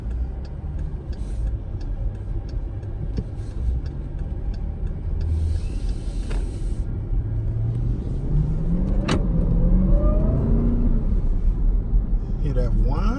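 Jeep Trackhawk with a supercharged engine emitting a steady low drone and a rising whine as it pulls away, heard close from inside, with some talk mixed in beneath the engine.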